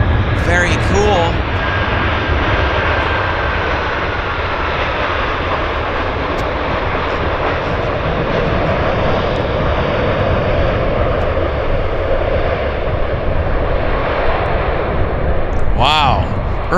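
A KLM airliner taxis at Vancouver airport with a loud, steady roar of engines that holds close for the whole stretch, while someone talks over it at the start and near the end.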